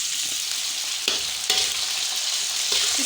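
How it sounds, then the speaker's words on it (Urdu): Boneless chicken frying with garlic ginger paste in a pan: a loud, continuous hissing sizzle with a few brief scraping stirs. "اس کو اچھی طرح فرائی کر لیں گے۔"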